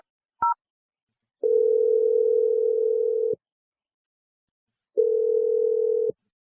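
A short dial beep, then a steady telephone dial tone sounds twice in long even stretches with silence between, as a call is placed for a radio show's second-date phone call.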